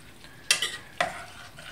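Soya mince (TVP) vegetarian pasta sauce being stirred in a pan, with two distinct scraping, clattering stir strokes over a faint low sizzle, close and fairly quiet.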